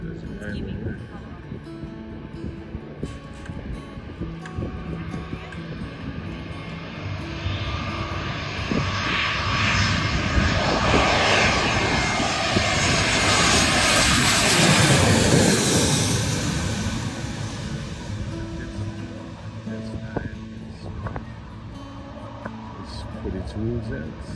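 A plane landing near Sydney Airport at Wolli Creek approaches, its engine roar swelling loud overhead at mid-clip and then fading away, while a person talks over it throughout.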